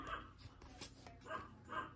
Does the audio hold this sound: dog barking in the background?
yes